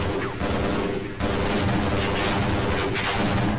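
Shotgun fire from Half-Life: loud, dense blasts crowd together in rapid bursts, with a brief dip before the barrage resumes and carries on to the end.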